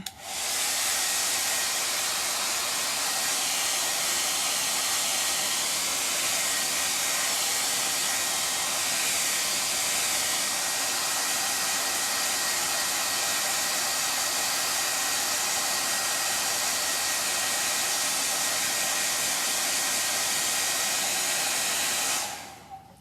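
A hair dryer blows steadily and loudly for about twenty-two seconds, drying chalk paint on a camper pillow, with a constant rushing hiss that stops abruptly at the end.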